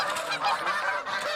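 Greater snow geese honk repeatedly in a dense, overlapping chorus, loud and close, with no talk.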